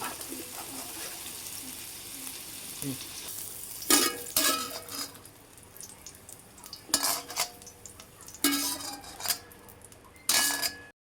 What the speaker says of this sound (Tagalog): Halo na natin dito sa sitaw.